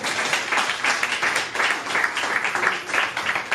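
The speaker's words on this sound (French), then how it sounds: "Acclamons pour les rois des rois." A church congregation applauds in a dense, continuous wash of clapping that holds steady without pauses, loud and close, with faint voices mixed in.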